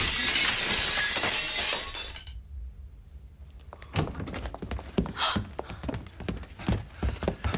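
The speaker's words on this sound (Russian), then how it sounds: "Просто разбитое зеркало." A mirror smashes, a dense burst of shattering glass for about two seconds, then a pause and scattered sharp clinks and thuds of falling shards and debris.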